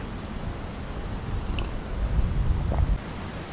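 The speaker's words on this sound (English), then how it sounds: "All I hear is the wind." Steady wind blowing beside the Chattahoochee River at Riverbend in Lumpkin, Georgia, out in the woods: a broad, low rushing that swells slightly toward the end, with no voices.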